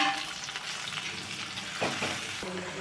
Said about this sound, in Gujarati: હવે હું ફૂલ ગેસ અને ટમેટાની પ્યુરીને ચડવા દઈશ